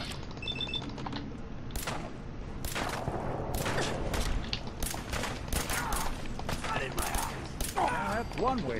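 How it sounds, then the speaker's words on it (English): Bursts of automatic gunfire from a gun turret in Fallout 4 crackle in rapid clusters, irregular and sharp against mechanical clanks, moderately loud throughout. "I hear a turret, I just don't know where it is"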